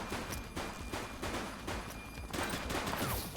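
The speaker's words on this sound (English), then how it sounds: "Shots fired!" In the police video game The Precinct, a dense, continuous burst of gunfire rattles loudly for a few seconds, with rapid overlapping shots and no talking.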